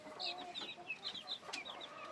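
Free-range Rhode Island Red, Light Sussex and Black Australorp hens cluck softly in a quick, uneven series of short calls, faint and fairly close, with no talking over them.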